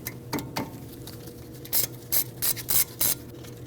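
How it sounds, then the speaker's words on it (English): A ratchet fitted with an E10 inverted Torx socket turns a brake pad wear sensor bolt on a 2016-2022 Mercedes-Benz GLC300, giving about half a dozen short, crisp, close clicks in an uneven rhythm. "We're going to use an E10 inverted torque socket to remove it."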